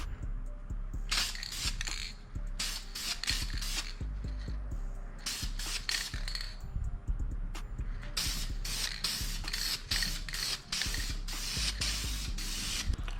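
Aerosol can spraying gloss clear coat onto a 6.0 LS engine, repeated close hissing bursts of varying length separated by short pauses.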